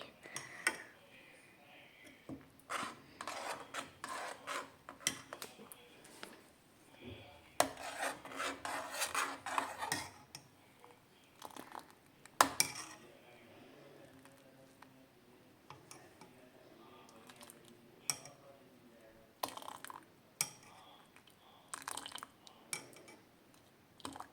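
Homemade desi chai is stirred in a pan, making quiet rasping scrapes that come in uneven bursts with pauses between them.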